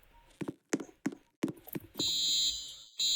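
An electronic alarm in a Roblox Brookhaven airport game blares in a steady high tone after a few sharp clicks and thumps, cutting out briefly before resuming.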